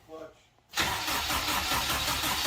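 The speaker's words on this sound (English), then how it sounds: "Yeah, fire it up." A K20 engine fitted in a Mazda Miata cranks briefly, then suddenly fires into a loud, steady running roar close by, with people talking around it.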